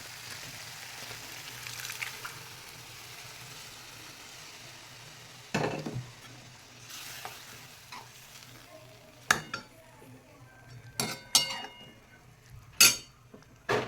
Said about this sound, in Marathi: तेल सुटलं आता आपण याच्यामध्ये शिजलेली मटकी ॲड करू